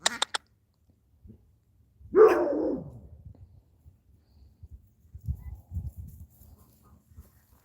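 A dog on a farm gives a single loud bark. A few sharp knocks come before it, and quiet low voices and rustling follow.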